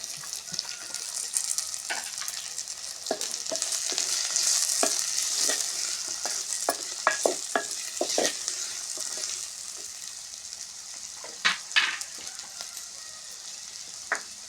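Four medium-sized onions sizzle in hot oil in a pan for an Andhra-style egg and raw prawn curry. A steady frying hiss runs throughout, with sharp clicks and scrapes from stirring scattered over it and no talking.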